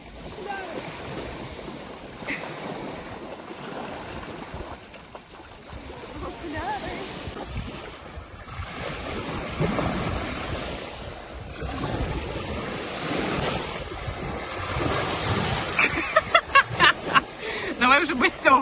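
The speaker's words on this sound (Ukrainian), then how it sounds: "Просто ці звуки. Я так за ними скучила. Море, море, море." Steady wash of Black Sea waves at Odesa with splashing water throughout, voices talking over it, and a burst of louder splashes near the end.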